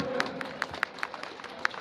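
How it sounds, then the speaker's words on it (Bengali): Scattered applause from an audience at a school sports competition, a sparse patter of claps at a moderate distance rather than a full ovation. "হাততালি দিয়ে উৎসাহিত করবেন"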